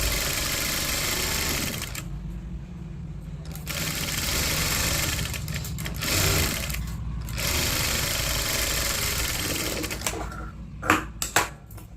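An electric sewing machine stitches blouse cloth in rapid, steady runs of whirring needle strokes, pausing briefly between seams, close and fairly loud.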